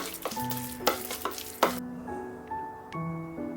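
Pork wonton filling seasoned with oyster sauce, white pepper and starch, stirred in a bowl; irregular wet slapping and scraping strokes with a few sharper clinks, close and fairly soft, with no talking.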